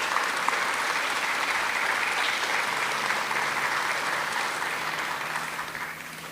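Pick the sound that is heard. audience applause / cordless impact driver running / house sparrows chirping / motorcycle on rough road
audience applause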